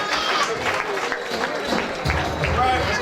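Banquet guests applaud a national champion with a lively burst of clapping and crowd noise, steady and fairly close, with voices mixed in under the clapping.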